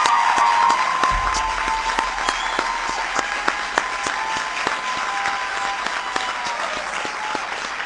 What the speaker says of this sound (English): Give Tom a big round of applause.